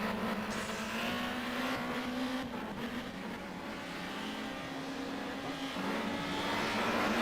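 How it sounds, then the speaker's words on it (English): Touring race cars roar around the Varano circuit in Italy, a continuous loud engine drone with a steady pitch that shifts as cars hold speed, with no talk over it. "squeeze a little rub to the back bumper of Hattori's Honda."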